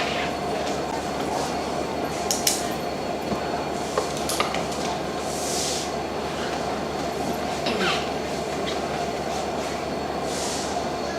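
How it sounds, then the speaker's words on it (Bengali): A train arrives at a station, a steady low rumble of rolling wheels and carriages with occasional sharp squeals and clanks, joined by bursts of platform noise and background voices. "আমার ট্রেনটা আগে আসবে, তারপর আপনারটা।"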